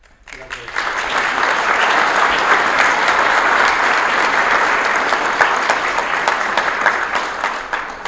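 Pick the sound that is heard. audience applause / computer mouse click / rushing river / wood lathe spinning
audience applause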